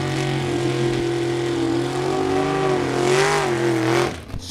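A Chevrolet split window Corvette's drag racing engine at a bracket race howls loudly, its pitch climbing and wavering before cutting off abruptly near the end.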